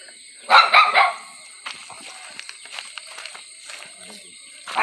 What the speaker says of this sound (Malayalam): തൊട്ടപ്പുറത്തെ വീട്ടിൽ ഒരു പട്ടി ഞങ്ങളെ കണ്ടോണ്ടോ ബഹളം വെക്കുന്നുണ്ടോ?